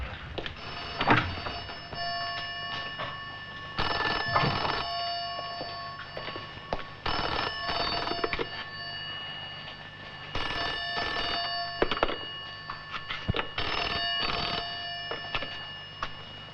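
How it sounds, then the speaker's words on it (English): An old-fashioned telephone bell in a charity office rings in repeated double bursts, five or six rings spaced evenly with quiet gaps between, clear and moderately loud in a quiet room. "Is that the library phone?"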